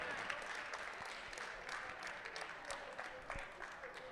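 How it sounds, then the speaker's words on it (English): Round of applause from an audience at a university student-union elections results announcement, steady dense clapping for about four seconds with a faint crowd murmur mixed in. "You need a big round of applause, guys."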